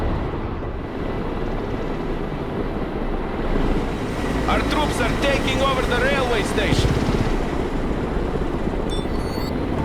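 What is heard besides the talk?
transport helicopters arriving in the video game Broken Arrow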